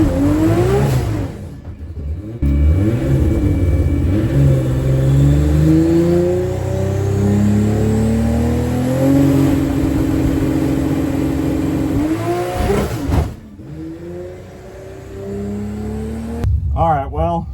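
A drag car on its first pass down a cold track roars as it accelerates hard, the engine note climbing through several gear changes with brief breaks between them, loud and close throughout.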